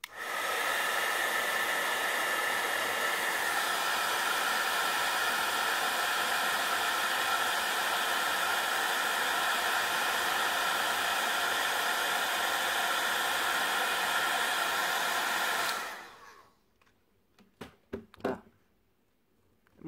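A heat embossing tool blows a loud, steady hot-air roar while melting embossing powder on a craft project, running unbroken for about fifteen seconds before switching off and leaving a few faint handling knocks.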